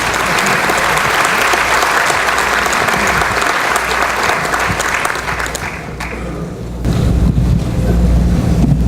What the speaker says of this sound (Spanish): Las palmas son muy fuertes para el doctor Coronel